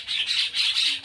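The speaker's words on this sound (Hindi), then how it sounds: "लड़ बहुत रही हैं, कौआ से लड़ रही हैं।" Birds squawking in rapid repeated harsh calls while fighting with crows, a steady burst of shrill cries close by.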